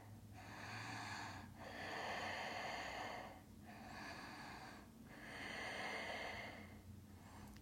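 Slow, audible breaths during a Sattva yoga side-body practice, each long inhale and exhale swelling and fading in a steady rhythm, close and fairly quiet with no talking.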